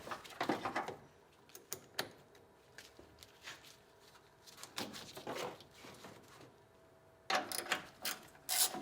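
Wrench ratcheting while disconnecting and removing the battery on a 1980-1996 Ford Bronco, with quick bursts of clicking pawl sounds, metallic clanks and handling noises separated by short quiet pauses.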